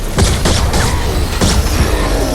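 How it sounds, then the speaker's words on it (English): Stormblade sword blasts in Fortnite Save the World, several loud booming explosions in quick succession over a continuous rumble of game noise. "And the explosions are so pleasant to hear."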